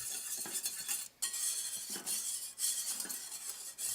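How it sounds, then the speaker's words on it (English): Whisk scraping and clinking around a pot as a mixture thickens over low heat, a close, quick repeated metallic stirring rhythm with a brief pause partway through. "turn the heat to low, continuing to whisk and scrape around the edges"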